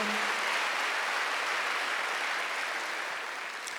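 A church congregation applauds during a Wednesday worship service, a steady dense wash of clapping from many hands that holds level and fades slightly toward the end, with no talk over it.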